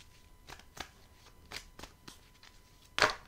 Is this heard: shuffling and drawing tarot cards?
yes